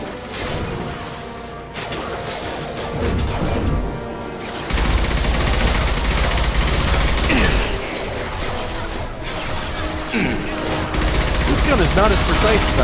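Gunfire in the Mass Effect 2 video game comes in dense, repeated bursts of sharp shots and impacts through a chaotic firefight, with a voice talking over parts of it.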